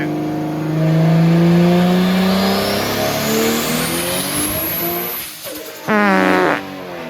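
2JZ engine with an S366 turbo in a swapped 240sx on a dyno, revving hard as pitch climbs steadily through the pull, then letting off with a sharp drop and a short stuttering blip near the end.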